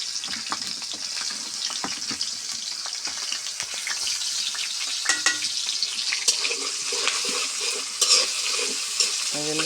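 Onions and fresh bay leaves frying in oil in a cooking pot, a continuous loud sizzle with scraping stirring strokes and occasional clinks of the spoon, close by.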